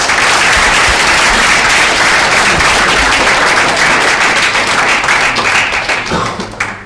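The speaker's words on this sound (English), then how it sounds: "one more round of applause." Loud, dense applause from an audience at a society final event, steady sustained clapping filling the room before tapering off near the end.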